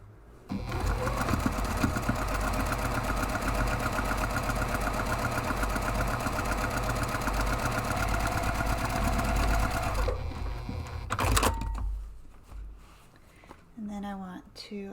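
A sewing machine runs in one long steady whirring burst as it stitches a large padded camera bag at a 3.5 stitch length, then stops; afterward a voice speaks softly nearby.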